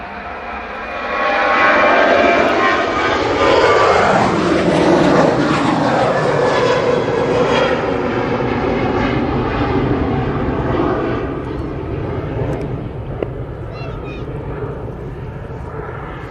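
A Ryanair airliner at East Midlands Airport roars loudly nearby, its engine noise swelling and sweeping in pitch as it passes, then slowly fading, with a voice talking over it.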